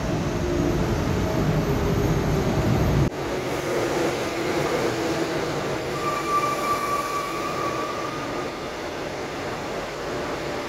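A Korail Mugunghwa passenger train hauled by electric locomotive 8212 rolls into Dongdaegu station, a loud rumble of wheels that drops off sharply, followed by a lighter running hum and a thin, sustained wheel squeal.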